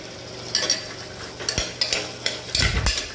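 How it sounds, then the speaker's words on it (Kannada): Vegetable and greens pulao being stirred with ginger garlic paste in a pan, giving a few soft scraping, clattering strokes at an uneven pace under a low background sizzle, close by with no talking. "ಹಾಕ್ಬಿಟ್ಟು ಚೆನ್ನಾಗಿ ಮಿಕ್ಸ್ ಮಾಡ್ಕೋಬೇಕಾಗತ್ತೆ"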